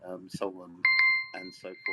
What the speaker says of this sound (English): that's my alarm going off there